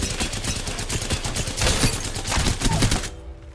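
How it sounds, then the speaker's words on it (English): Hip-fired gunfire in the video game Apex Legends comes as a loud, dense, rapid stream of shots lasting about three seconds, then cuts off abruptly, with no voices. "We're going to move and hip fire."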